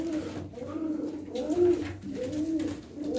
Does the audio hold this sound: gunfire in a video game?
no